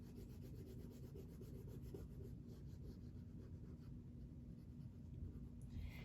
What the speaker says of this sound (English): I'm going to draw a pink cup and color that in.